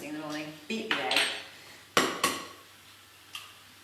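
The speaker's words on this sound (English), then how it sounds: "grab a bowl, a fork, and just beat that egg" A fork clinks and taps against a bowl while an egg is beaten for spinach, chickpea and sweet potato sausage rolls, several quick close metallic strikes with short ringing decays, fairly quiet and without talk.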